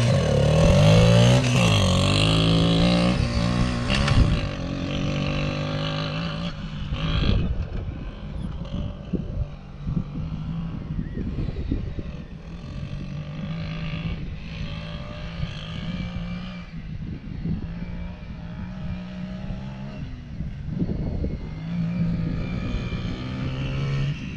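A Yamaha Raptor 80 mini ATV revs hard close by, then its small engine buzzes steadily at fluctuating pitch as it accelerates and eases off around a track, with no voices.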